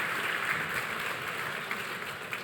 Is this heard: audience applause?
yes